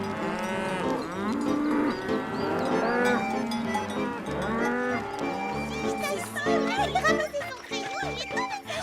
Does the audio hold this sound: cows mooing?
yes